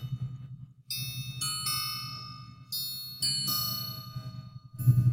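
A synthesized gong in Ableton Live rings in repeated metallic strikes, bright shimmering overtones layered over a low hum and a wash of added random noise rumble, fairly loud and alone.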